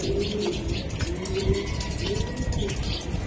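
Racing pigeons cooing close by, several soft repeated throaty coos in a loose rhythm over a low background murmur.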